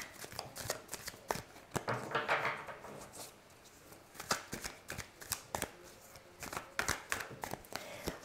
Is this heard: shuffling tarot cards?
yes